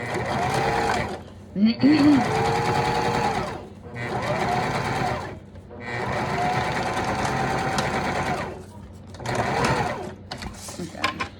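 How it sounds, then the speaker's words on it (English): Sewing machine back stitching along a fabric edge while making a ladies' wallet, running loud and steady in several long bursts with short pauses between. "I wanted to get that back stitched right on the edge"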